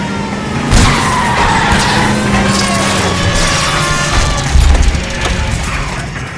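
A car spins out and skids in the video game L.A. Noire, giving a long tire squeal over engine noise with a couple of impacts, loud and continuous.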